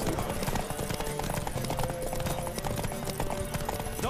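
Hoofbeats from a horse galloping in The Witcher 3 pound in a fast, steady rhythm, loud and close, with busy game sound mixed underneath.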